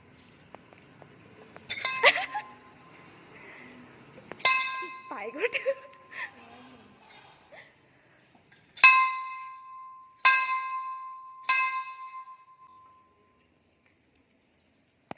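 Temple bell at Belonia Smriti Mandir, Tripura: several separate clear metallic strikes with ringing tails, spaced a second or two apart, close and loud in a quiet setting, with voices talking between them.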